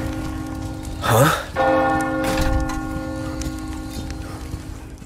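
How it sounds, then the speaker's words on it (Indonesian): A church bell tolls in the video game Resident Evil 4, ringing out in a village with a resonant metallic clang and a long humming decay over a steady rain-like background hiss. "Tiba-tiba saja terdengar lonceng gereja"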